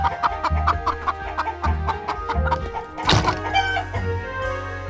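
Chickens in a fox cartoon cluck in a quick rhythmic series of close, loud calls, broken by a sharp thunk partway through before the clucking settles into a lower murmur.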